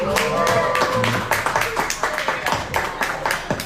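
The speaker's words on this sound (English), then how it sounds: "Please, let's give him a round of applause." An audience at a Miss World event claps in a round of applause, a dense burst of hand claps with voices talking over it throughout.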